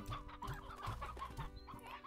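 A chicken in the video game Slime Rancher clucks in a quick series of short, close calls, fairly quiet and with no talking.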